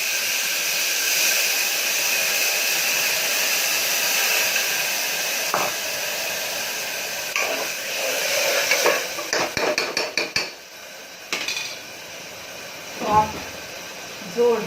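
A constant hissing sizzle of spices tempering in hot oil fills the air, broken by metallic clatters and scrapes of a utensil against a pan, with someone speaking over it.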